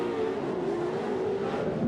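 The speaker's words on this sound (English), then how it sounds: "Battle for the lead with the Lucas Oil trucks." Pro 4x4 off-road race trucks at the 2008 WSORR Wheatland event battling for the lead, engines snarling loudly and steadily with a wavering pitch that rises near the end; no talking.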